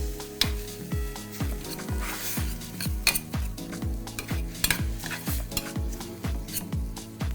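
Spinach cooks in a pan on the stove while being stirred, with a steady sizzle under repeated scraping and clinking of a utensil against the pan in a quick, regular rhythm.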